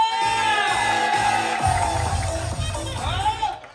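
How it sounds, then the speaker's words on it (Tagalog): A live audience in a Filipino variety show setting claps and shouts on cue, a loud sustained crowd roar with cheering and whoops that swells and then fades over a few seconds. "Isang palakpakan na may kasama, sigawan!"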